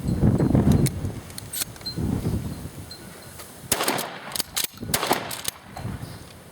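A Remington 870 pump-action shotgun is test-fired for two rounds, giving sharp, loud broadband bangs in the second half with quick mechanical clacks between them, after a stretch of rustling handling noise.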